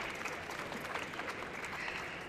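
An audience applauds a team at the final of an innovation-solutions competition, a steady, fairly faint wash of clapping throughout with no voices over it.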